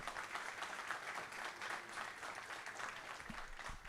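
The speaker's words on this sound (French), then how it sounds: "je vous propose d'applaudir Nicolas" Steady audience applause fills a conference hall during a French talk, a dense continuous wash of clapping from a seated crowd at moderate distance, with no speech over it.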